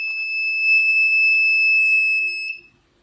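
A water tank full indicator alarm sounds automatically, a continuous high-pitched electronic beep tone holding steady for about two and a half seconds before cutting off into quiet.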